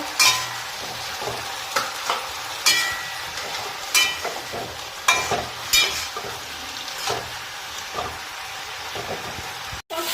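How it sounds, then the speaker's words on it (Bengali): Ginger paste and chopped green chilli fry in hot oil, a steady sizzle broken by repeated scraping strokes and clinks as a spatula stirs the pan. "আগে থেকে আদা বাটা লঙ্কা কেটে রেখেছি, দিয়ে দিচ্ছি, দিয়ে নাড়িয়ে নেব"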